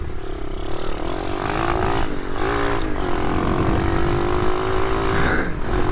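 A mini motorbike engine revs steadily while being ridden, its rising and falling pitch droning loud and close throughout with no break.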